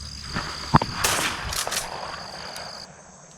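A single sharp shotgun blast rings out behind the hunter on a public-land dove hunt in North Carolina, a close loud crack followed by fainter outdoor noise and insect buzz.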